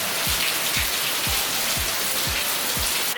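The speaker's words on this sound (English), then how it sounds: "It was a torrential downpour." Torrential rain pours down in Tulum, Mexico, a loud dense hiss of water beating on surfaces with steady low thuds repeating about twice a second beneath the downpour.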